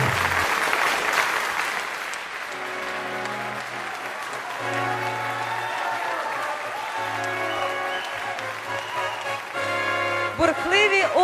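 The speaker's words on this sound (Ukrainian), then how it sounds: "Вітаємо бурхливими оплесками нашого переможця." An audience at a ceremony honouring a champion breaks into loud, sustained applause that carries on at a steady level, with music playing softly underneath.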